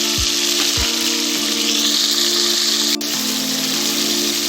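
Chicken frying in a pan while making haleem gives off a steady hiss. A couple of low thuds come early, and a faint hum runs underneath with no talking.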